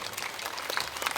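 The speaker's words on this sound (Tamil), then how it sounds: "கைத்தட்டி நாம் நன்றியை தெரிவிப்போம்." An audience at a church drama performance claps, a brief burst of scattered applause from a crowd, moderately loud and alone.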